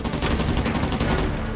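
Gunfire in the video game Uncharted 4, a loud, close, continuous burst of rapid shots and booms filling the whole moment with no pause.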